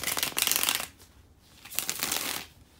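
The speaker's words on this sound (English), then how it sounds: "give me a second to shuffle the tarot cards" Tarot cards are shuffled twice in crisp riffling bursts, close to the mic, with a short quiet pause between them.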